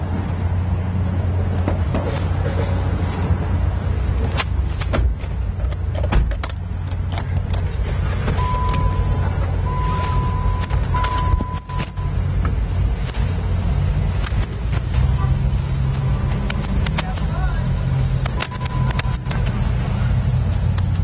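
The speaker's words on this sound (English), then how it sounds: "Let's get in the car. Sure. Let's get out on Woodward." A car rolling along Woodward Avenue in Detroit, a steady low interior road rumble with passing traffic and scattered clicks and thumps, no talking.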